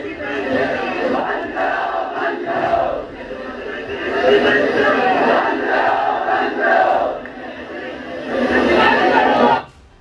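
Protest crowd at Jantar Mantar chanting slogans for Dharmendra Pradhan's resignation, a loud massed roar of voices rising and falling in repeated bursts with short pauses between chants.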